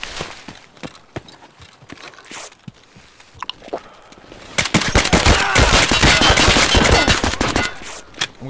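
Gunfire in Escape from Tarkov: scattered sharp shots at first, then a dense, loud burst of rapid fire shooting through windows, with no speech over it.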